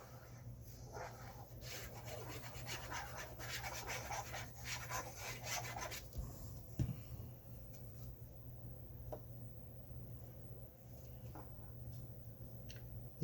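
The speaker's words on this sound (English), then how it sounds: "I'm going to burnish down my glue" Paper pieces glued onto a craft folio being burnished down by hand, a soft close rubbing and scraping in irregular strokes for several seconds before fading to quieter handling, with no talk.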